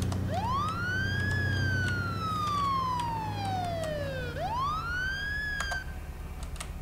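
A police car siren in the State of Decay video game wails, rising and slowly falling in two long sweeping cycles, loud and steady over a low rumble.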